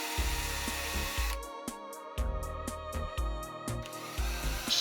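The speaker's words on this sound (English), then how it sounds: "The usual 6mm drill to take the heads off." A sharp 6mm drill bores off the rivet heads on a Matchbox K5 racing car transporter toy, cutting in several short bursts with brief pauses between them, close and fairly loud.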